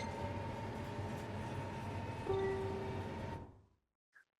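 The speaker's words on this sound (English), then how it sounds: "The train is now arriving at Cartanica Station." A train in the video game Final Fantasy XV rolls into a station with a steady rumbling clatter and a sustained tonal hum, swelling slightly with a brief squeal before cutting off abruptly into near silence and a faint blip.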